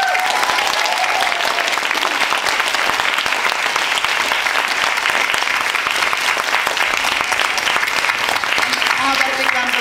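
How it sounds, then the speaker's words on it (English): Sustained loud applause from a large audience at a women's festival event in Cambridge, dense continuous clapping filling the hall for about ten seconds with a few voices faintly mixed in. "So big round of applause at both ends."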